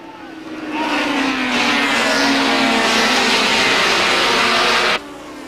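SCCA race cars take the green flag in the 1989 National Championship, their engines swelling into a loud, sustained, dense roar that holds steady before cutting off abruptly near the end.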